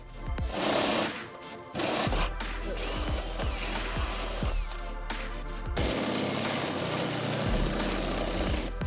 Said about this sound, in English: We'll have to drill in our own holes with a 1/2-inch drill bit and place our own carriage bolts in.